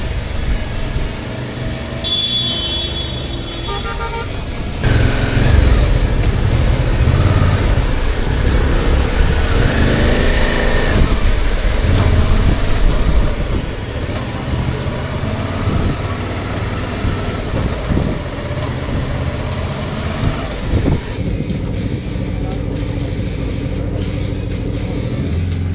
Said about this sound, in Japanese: キュタヒアの市街地は古いだけに道路も非常に混み入っています